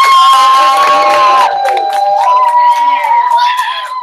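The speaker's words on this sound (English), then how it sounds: "Give yourselves a big round of applause." Children at a school author celebration cheer and shout together in a loud, sustained burst that dips briefly midway and then swells again, with high excited voices whooping over the crowd noise.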